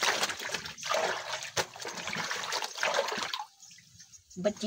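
Water trickles and splashes steadily during hand laundry with fabric softener, a continuous close pouring that thins out near the end before a few louder splatters.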